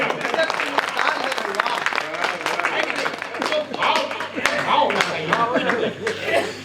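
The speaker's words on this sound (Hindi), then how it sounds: "ताली बजाओ।" Audience applause at a Hindi poetry recital, dense ragged clapping from a crowd with scattered laughter and voices mixed throughout, rising and falling in waves.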